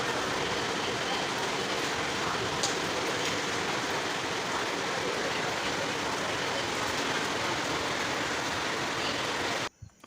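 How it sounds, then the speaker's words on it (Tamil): Sudden summer rain pours down outside a home, a constant dense roar that carries on unbroken for the whole stretch and cuts off abruptly at the end. "திடீர்னு கோடை மழை கொட்டிக்கிட்டு இருந்துச்சு."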